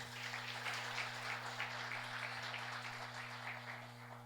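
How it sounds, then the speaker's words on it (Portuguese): A church congregation applauding, a dense wash of many hands clapping together at a moderate distance, steady throughout over a low electrical hum. "Aplauda o Senhor Jesus."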